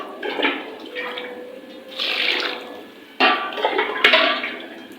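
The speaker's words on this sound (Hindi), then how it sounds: "अब मैं शामिल करने लगी उसके अंदर पानी" Water splashes and gurgles into a metal pot of masoor dal and rice in a few bursts, with light clinks of the pot, fairly close.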